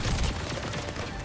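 Rapid gunfire in the Overwatch video game crackles loud and steady for a moment, a dense fusillade of shots with a low booming undertone and no voices.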